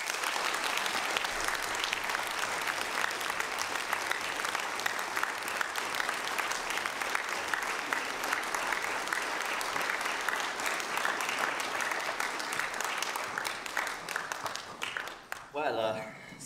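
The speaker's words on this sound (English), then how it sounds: "I'd like everyone to give a round of applause for Steven Moffat." A large audience gives a long, sustained round of applause to welcome Steven Moffat, thick even clapping that fades out near the end as a voice begins to speak.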